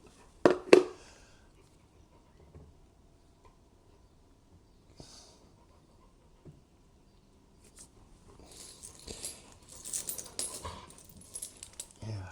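A Tibetan Mastiff gives a short, loud, drawn-out yawn near the start, followed by quiet stretches, a few small clicks and later rustling movement and soft breathing close by.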